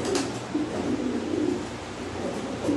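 French meat pigeons coo softly while feeding, low repeated burbling calls close by over a steady background hiss, with no talking.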